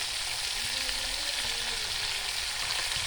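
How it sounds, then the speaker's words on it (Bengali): Cauliflower and paneer fry with vegetables and chilli powder in a pan, a constant close hiss of sizzling oil with faint occasional stirring knocks underneath. "সবজির সঙ্গে খুব ভালো করে কষিয়ে নেব"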